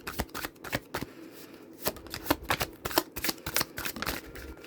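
Tarot cards are shuffled by hand in close, crisp riffling bursts, a rapid series of papery slaps and flutters with short pauses between them, heard alone without talk.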